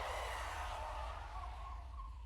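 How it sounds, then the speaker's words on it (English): Car brakes screech in the video game 428: Shibuya Scramble, a loud, sustained tire screech with a wavering high whine sliding down in pitch over two seconds, with a rumbling engine underneath. "the driver slammed on the brakes"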